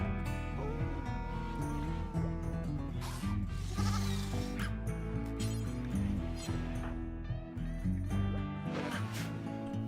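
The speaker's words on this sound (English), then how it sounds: "Random sheep wandering around." Sheep in the RimWorld video game bleat intermittently amid continuous game music and sound effects, short wavering cries recurring over about ten seconds, mixed fairly low under the dense soundtrack.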